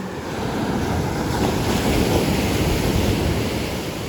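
Sea waves wash onto the shore at Maspalomas beach, a steady, loud roar of surf mixed with wind noise across the microphone, with no voices.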